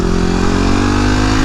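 A motorcycle engine runs close and loud, a steady droning tone with no clear rise or fade over the short stretch, heard alone with no voices.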